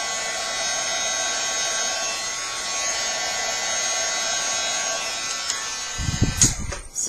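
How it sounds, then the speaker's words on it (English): A handheld heat tool blows a steady, loud whirring drone while drying freshly stamped paper for resist stamping, running continuously before cutting off into a few close handling knocks. "The next thing you're going to do is you're going to take your heat tool and you're going to dry this."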